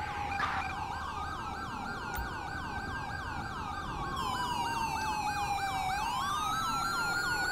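An ambulance siren in the video game Grand Theft Auto V wails in a fast repeating yelp, then shifts into a slower rising and falling pattern, loud and close over a steady vehicle rumble, with no talking.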